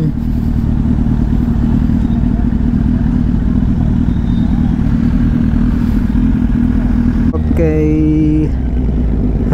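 Superbikes, including a Hayabusa, cruise on a highway with a loud, steady engine roar and wind rush, and a rising rev near the end.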